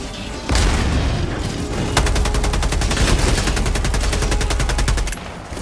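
Rapid automatic turret gunfire in Helldivers 2, a steady rattling stream of close, loud shots running for several seconds with a heavy low rumble and a sharp boom near the start.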